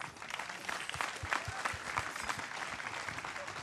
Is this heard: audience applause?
yes